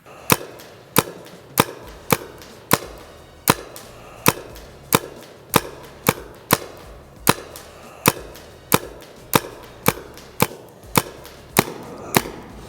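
A paintball gun fires frozen paintballs that burst in the barrel, about twenty sharp, loud cracks spaced evenly roughly every half-second with no talk.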